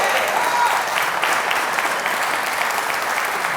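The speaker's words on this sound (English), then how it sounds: "So another round of applause for Elaine Hutchins" Loud, dense applause from an audience at a community awards ceremony in Lichfield, a steady wash of many hands clapping for the whole stretch with no voices on top.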